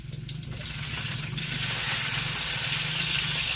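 Chopped onions dropped into a hot pan, a broad hiss rising quickly and then holding as a steady loud sizzle, with a low hum beneath.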